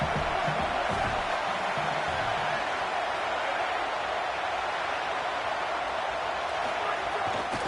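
A football stadium crowd roars in a continuous loud, dense wash of cheering and noise that holds steady throughout, with no clear breaks.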